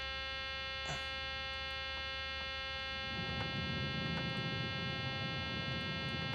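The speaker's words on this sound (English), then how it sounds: "Okay, why is the bloody buzzer going off?" A cockpit warning buzzer in a Microsoft Flight Simulator 2020 airliner cockpit sounds as a steady, faint electronic tone under constant mains-like hum, with a rougher broadband layer joining partway through.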